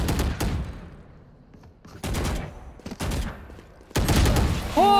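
Rapid bursts of gunfire from the shooter Valorant erupt in several loud clusters with short gaps between them, some game effects ringing out near the end.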